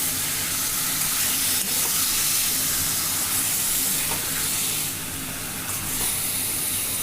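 Marinated chicken fries in a pan with a dense, steady sizzle and hiss, close and loud, while a spoon stirs it through with periodic scraping strokes.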